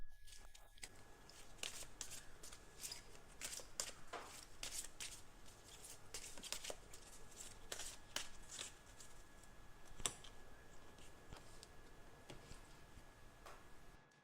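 Oracle cards are shuffled by hand in a quiet room, a long run of soft, rapid riffling ticks and flutters with brief pauses, close and faint, with no voices.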